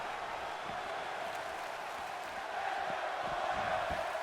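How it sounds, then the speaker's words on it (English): Wrestling arena crowd at Monday Night Raw roaring steadily for Daniel Bryan during his match with Rusev, a dense, continuous wall of cheering that swells slightly louder toward the end. "You can tell the fans are with Daniel Bryan. They're cheering for him."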